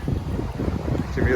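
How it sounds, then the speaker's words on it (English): Strong wind gusting across a port area in Port Blair, Andaman and Nicobar Islands, heard as a steady, loud, low rumble of buffeting that swells slightly toward the end. "The wind's really whipped up here."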